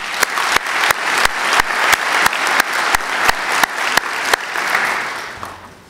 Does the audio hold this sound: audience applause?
yes